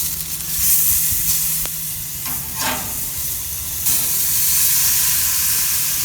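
Steaks sizzle loudly and steadily on an Oklahoma Joe's grill, a continuous close hiss that swells briefly as the meat is turned, with no voices over it.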